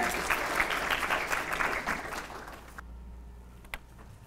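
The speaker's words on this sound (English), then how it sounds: "So give her a round of applause." A keynote audience gives a modest round of applause, moderately close and uneven for about three seconds, then fades to a quiet room with a lone stray clap.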